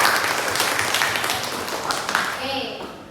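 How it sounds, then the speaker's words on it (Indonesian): A classroom group claps during a guidance lesson, a loud, busy burst of many hands that continues for a couple of seconds before a voice starts speaking over the tail of the applause. "tepuk tangan untuk."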